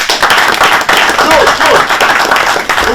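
A studio audience at a televised quiz competition claps continuously and fairly loudly to welcome a contestant, a dense, close burst of applause lasting the whole stretch, with a voice faintly mixed in.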